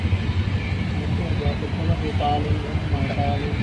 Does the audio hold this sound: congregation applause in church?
no